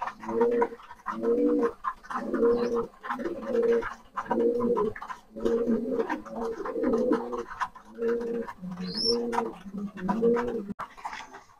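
Pigeons in a somewhat dirty loft coo in repeated throaty bursts, about a dozen rhythmic phrases close by and fairly loud, with a few sharper bird calls scattered between them.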